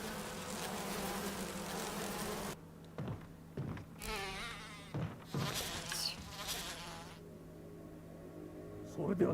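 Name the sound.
insects buzzing in a giant hive, from Resident Evil 1 video game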